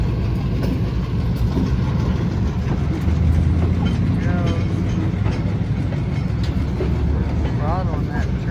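Freight train cars rolling along the track during railroad switching, a loud continuous rumble with low engine drone and faint squeals of wheels and metal, close by and steady.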